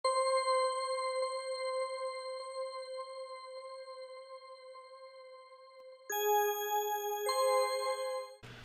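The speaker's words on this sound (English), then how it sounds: "next we have the Arc Moon Bell playing a nice little counter melody" A bright bell-like synth, the Arc Moon Bell, plays a sustained counter melody for a hypnagogia-style beat. Held ringing tones shift to a higher, busier phrase near the end, with no voices.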